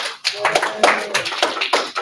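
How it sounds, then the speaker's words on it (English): A classroom of students gives a short round of applause for volunteers after a triangle congruence activity, with scattered, uneven claps from a small group close by. "Let's give them a round of applause, guys"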